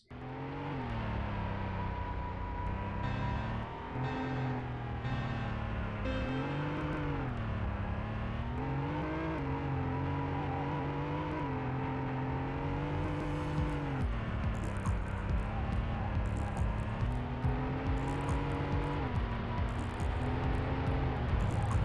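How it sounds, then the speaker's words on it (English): A 3-litre twin-turbo V6 Dacia Sand Rider in the PS1 racer Vanishing Point, droning loudly and steadily with the engine pitch rising and falling through gear changes and revs. "A 3-litre twin-turbo V6"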